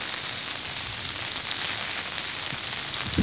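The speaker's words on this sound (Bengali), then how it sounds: "এখানে প্রচুর বৃষ্টি হচ্ছে" Heavy rain with wind falls steadily outdoors near a building, a dense continuous wash of drops at moderate level with no voices.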